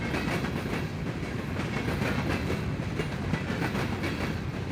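A Norfolk Southern freight train rumbles past close by in Muncie, Indiana, a steady loud roar with rhythmic clatter of wheels running through the whole stretch.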